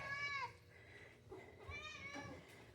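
Pet cats meow indoors during a morning routine, two or three soft, drawn-out calls close by and fairly quiet, with no talking.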